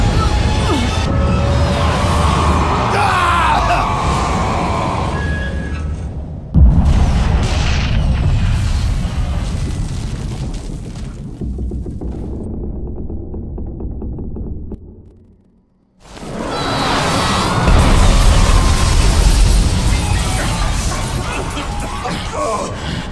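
In the video game Bulletstorm, tanks blow up under gunfire with heavy, rumbling booms and crashing blasts that fill the mix, while voices talk over the loud, dense action.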